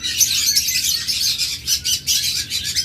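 Many caged pet birds, lovebirds, budgerigars, cockatiels and conures, chirp and tweet continuously at a bird farm in a dense, busy chorus, close and fairly loud, with no talking.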